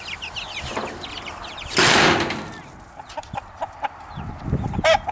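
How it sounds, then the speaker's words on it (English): Several chickens cluck and chatter nearby in short, uneven bursts, with a brief loud rustle of movement partway through. "my bigger chickens are coming to see what all the fuss is about"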